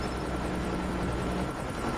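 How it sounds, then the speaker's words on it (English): A stealth chopper from the video game Call of Duty Mobile flies in, a steady, muffled whooshing rotor drone that holds evenly throughout. "Hostile stealth chopper inbound."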